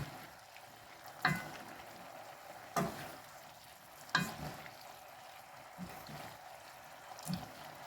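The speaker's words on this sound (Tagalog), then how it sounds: "So, ito na yung ating pasta, no? Haluin natin siya." Fresh tagliatelle with shrimp and zucchini sauce being stirred in a pan, giving a low steady sizzle with a few louder scraping clacks of the utensil at regular intervals, no voices.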